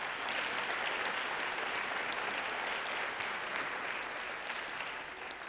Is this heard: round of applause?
yes